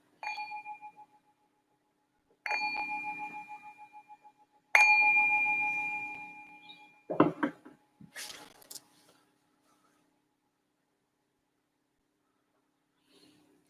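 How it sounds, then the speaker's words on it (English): A meditation bell is struck three times, each ring clear and sustained with a slowly fading shimmer, followed by a few soft clunks and then near silence. "So I'm just going to ring the bell to signal the start of this meditation."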